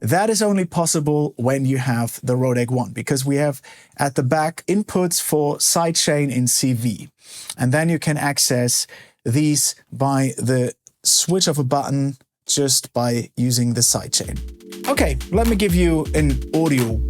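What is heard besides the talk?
No distinct noise like a dog, phone or traffic.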